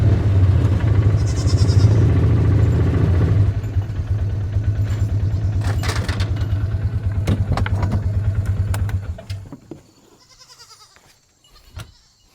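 A steady engine drone dominates, with faint goat bleats calling intermittently over it; the motor cuts off near the end, leaving quieter bleats and rustling.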